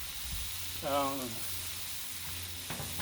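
Corn on the cob and pineapple rings sizzle on a griddle with a steady hiss, while a brief voice-like tone rises over it near the start.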